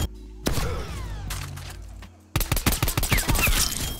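Pistol shots fired in a first-person shooter video game: a few separate sharp reports early on, then after a brief lull a quick burst of closely spaced gunshots, loud and near, with no voices.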